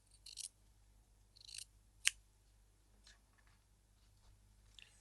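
Scissors trimming excess fabric from a sewn bias strip seam: a few quiet, crisp snips close by in a still room, one sharper cut standing out among softer ones.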